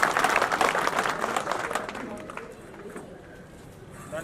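A crowd at a Congress party village gathering in Tikri claps loudly in a dense burst that thins and fades over a few seconds, welcoming Dr. Udit Raj.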